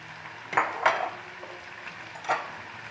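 Vegetables such as carrots tip into a pan of browned chicken for Chinese-style chicken rice, giving a few clanking scrapes and clinks against the pan over a low sizzle, with no talking.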